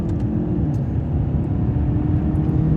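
A Peugeot 508 PSE with a 1.6 engine hums steadily from inside the cabin while driving, a low, even drone with faint road noise and no speech.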